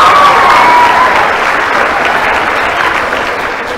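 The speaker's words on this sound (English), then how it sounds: "so let's give them one more round of applause." Audience applause for a middle school choir at a winter concert, loud and dense clapping from a full room that holds steady and begins to thin toward the end.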